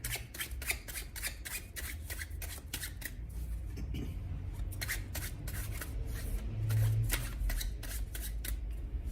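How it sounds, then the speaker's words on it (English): A tarot card deck is shuffled in quick, crisp riffles and rubs, close up, with a steady low background hum throughout. "let me just shuffle the Emperor deck"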